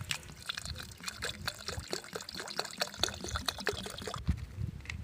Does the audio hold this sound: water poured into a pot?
yes